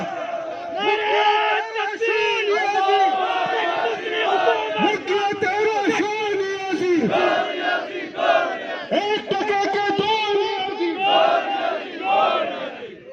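A large crowd at a political rally in Pakistan shouts slogans in rhythmic unison, loud, dense and sustained, with repeated waves of massed voices.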